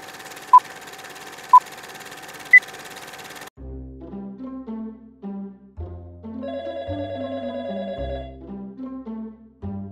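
A home telephone rings three times in sharp, evenly spaced electronic trills over faint hiss, then falls silent as a light melodic tune begins.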